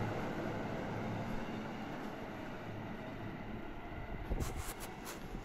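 At Minami-Urawa station, a JR Keihin-Tohoku Line train bound for Isogo rumbles past close by, a steady rail roar with wheel clatter and a few sharp metallic squeals near the end, and no voices.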